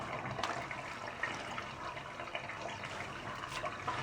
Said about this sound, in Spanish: Y ahora voy a quitar la tapa para que se vaya el agua.